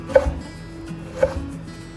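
Two separate knife chops on a board, well spaced and close, as celery and potatoes are cut into large pieces for a Turkish vegetable chicken dish, with quiet room tone between strokes.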